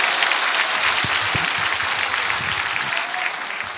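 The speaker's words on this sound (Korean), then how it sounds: "오늘 존경과 공경의 마음으로 여러분과 함께 목사님께 박수를 한번 크게 보내봅니다." A large crowd at a Sunday joint worship service in Gwanghwamun, Seoul, claps loudly and steadily, a dense wash of applause that tapers slightly toward the end.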